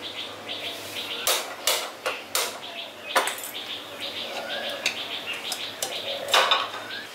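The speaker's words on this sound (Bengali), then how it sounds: "তারপরে কড়াইটা গরম করতে বসিয়ে দিচ্ছি।" A metal kadai is set on a gas stove to heat, heard as several sharp, close clanks and knocks of metal cookware at an uneven pace over a quiet kitchen background.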